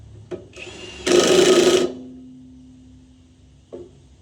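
A power tool tightens a bolt on a Jansen wood chipper during blade and belt work, one loud whirring burst of about a second set between a few sharp metallic clicks, then quiet.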